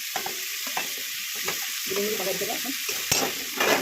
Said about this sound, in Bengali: 2টো টমেটো কাটা হয়েছিল ছোটো ছোটো করে, সেটা একটু মেশানো হলো।